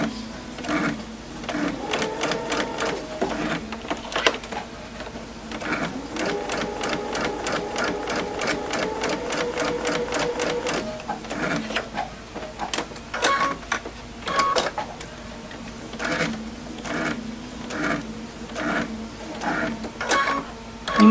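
A home sewing machine back stitches and then sews a curved seam on a fabric face mask with a filter pocket, running in steady close bursts of rapid needle clatter separated by short pauses, with no talking.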